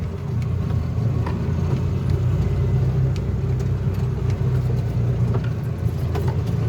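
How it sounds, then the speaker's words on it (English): A Bobcat 3400XL side by side, a Polaris Ranger 500, drives in low range with a steady, loud mid-pitched engine drone and rumble that stays constant throughout, no talking. "Now let's go for a quick ride. We'll start off in low range."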